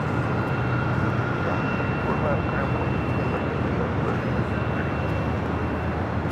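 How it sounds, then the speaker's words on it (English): A Southwest Airlines Boeing 737-800 jet airliner arriving at LAX gives a steady, moderately loud engine roar with a faint whine, with voices talking over it. "That was Southwest Airlines flight 1939 coming up from Vegas, 737-800."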